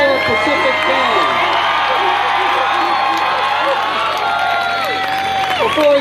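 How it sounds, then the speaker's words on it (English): A large outdoor crowd at the 2019 Pearl Harbor Memorial Parade cheers and applauds a Marine Corps brass band, with continuous loud clapping, shouts and whoops blending into one steady roar. "Big round of applause for the Big Wave Brass Band from the Marine Corps Pacific Band."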